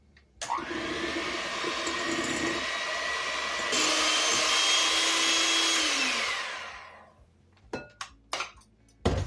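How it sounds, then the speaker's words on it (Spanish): Egg and beer being beaten into a fish batter for Ensenada-style battered fish tacos, a steady close whirring mix lasting several seconds, then trailing off into a few brief clinks and knocks. "Vamos a añadir el huevo y la cerveza. Y vamos a batir."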